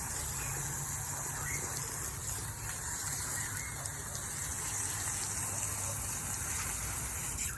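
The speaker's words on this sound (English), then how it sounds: "for now, we're just gonna hose it down" A garden hose sprays water onto a freshly laid decomposed granite garden path, a steady rushing hiss that runs continuously and evenly throughout.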